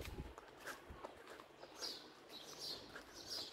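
Small birds chirping outdoors at a quiet mountain-view property in Tosmur, Alanya, Turkey, with short high tweets repeating through a faint, calm background.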